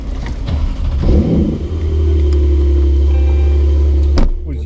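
A Porsche 911 Turbo S lightweight accelerates hard, its engine rising to a loud, sustained roar after a brief shift, heard close up with a sharp clunk near the end and no talking.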